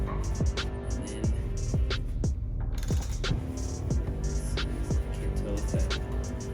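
Wrench turning a socket on a strut nut of a 2019 car fitted with lowering springs, a steady series of sharp clicking strokes repeating about every half second, close and fairly loud over a faint background hum.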